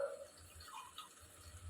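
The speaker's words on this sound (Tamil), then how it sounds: "மட்டன் வெந்த தண்ணியை ஊற்றுறேன்." Mutton cooking water pours from a vessel into a pot of biryani, a faint, brief liquid splash and trickle heard up close.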